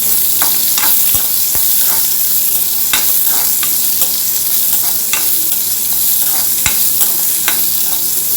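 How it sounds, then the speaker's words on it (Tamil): Onions sizzling steadily in a hot pan, with occasional sharp clicks of a spoon stirring against the metal. "வெங்காயம் போட்டு நல்லா வதக்கிக்கணும்"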